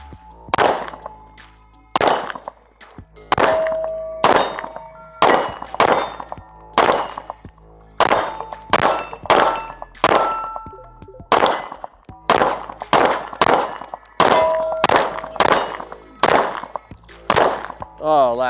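Rifle shots ring off steel targets, a steady series of about twenty sharp cracks each followed by a bright metallic clang, spaced roughly one second apart, close and loud with a few brief pauses.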